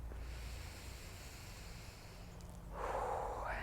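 A deep inhale and a breathy exhale during a gentle chest-opening stretch after gardening, close and soft, with the louder breath rising near the end.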